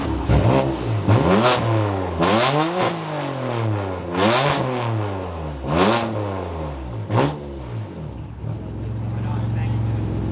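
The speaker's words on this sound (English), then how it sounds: "that is a 50 state legal switch path exhaust" A BMW engine with a switchable valved exhaust revs hard several times, with sharp rising and falling sweeps, then settles into a steady low idle.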